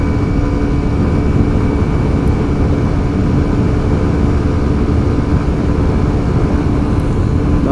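Kawasaki Ninja 125 (2020) engine revving high on a test ride, a loud, steady, continuous drone with rushing wind noise and no talk.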